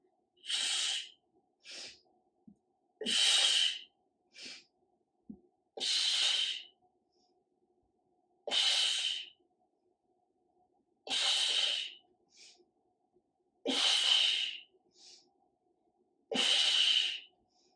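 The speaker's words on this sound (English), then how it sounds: "Exhale, inhale. Exhale, inhale. Exhale, inhale." Rhythmic breathing from a person doing an intense supine strength workout: about eight sharp, breathy exhales arrive roughly every two and a half seconds, each followed by a shorter, softer inhale, close and alone with quiet gaps between.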